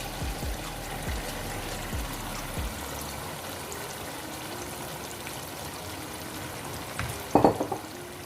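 Chicken being stirred into cooked masala for chicken biryani in a pot, a steady low frying hiss with a few soft scrapes early on and a sharper clatter of the spoon near the end.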